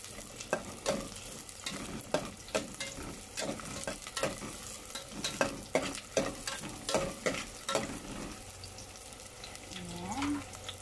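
An egg fries in a pan, stirred and scraped now and then, with steady sizzling and repeated sharp utensil scrapes up close, before the sizzle settles into a softer hiss.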